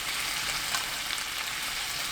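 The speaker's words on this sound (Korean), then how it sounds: "양념이 끓어오르면 익힌 오리고기 넣고 볶아주세요." Cooked duck meat stir-fried in a pan of boiling soy-based seasoning over high heat, giving a steady, close, continuous hiss and sizzle throughout with no talking.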